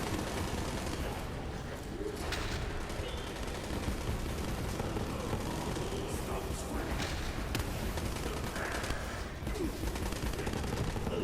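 Blind automatic gunfire from a skull-launching gun in Borderlands 3, a dense continuous barrage of shots and impacts with game effects and a voice talking over it throughout.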